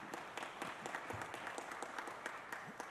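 A city council meeting audience claps for Christina, a quiet, even patter of many hands spread across the room, with a few sharper claps standing out near the front.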